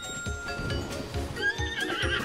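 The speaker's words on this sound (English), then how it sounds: "Why did the horse stop?" A horse in the video game Zelda: Tears of the Kingdom lets out a loud neigh with clip-clop hoofbeats, with almost no talk over it.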